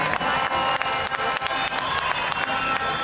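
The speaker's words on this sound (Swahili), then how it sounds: "tuwapigieni makofi wachezaji wote" Football tournament crowd at Machakos applauding the players, dense sustained clapping with some cheering, loud and close and continuous throughout.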